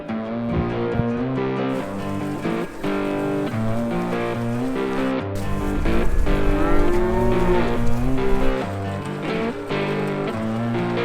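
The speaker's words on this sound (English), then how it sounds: "Oh, here comes the cows." Cattle arriving on a goat farm, several cows mooing in long, drawn-out calls that overlap and follow one another steadily, fairly close and loud, with no talk.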